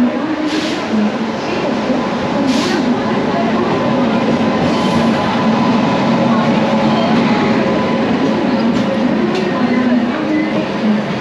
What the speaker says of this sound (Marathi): आपली ट्रेन आता येईल प्लॅटफॉर्म नंबर 10